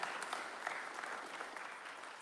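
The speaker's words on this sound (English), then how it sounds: "So let's give Jeff a round of applause." Quiet, distant applause from a small audience at a river revival award ceremony, steady light clapping lasting a couple of seconds.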